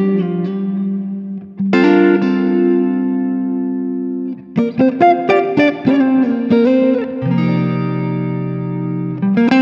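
Warm, mellow Fender Stratocaster on the neck pickup with the tone knob rolled down, strummed chords and picked notes ringing out in phrases, no voices, steady moderate loudness.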